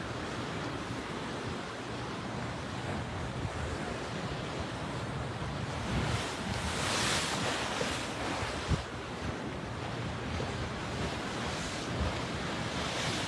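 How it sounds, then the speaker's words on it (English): Tsunami storm surge from the Tonga volcano eruption drives ocean waves against a seawall at Pleasure Point, Santa Cruz: a continuous, close roar of surf under heavy wind noise, swelling into a louder crashing surge midway. "feel the ground shake beneath you when you're standing right here from the power of the waves on the"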